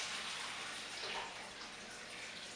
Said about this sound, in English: a lot of pressure, 225 liters of dirty water coming out of here